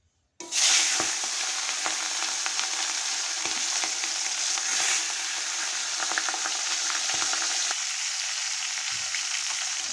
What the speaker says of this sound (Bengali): তেল আমার গরম হয়ে গেছে, এখন মাছের মাথাগুলো দিয়ে দেবো।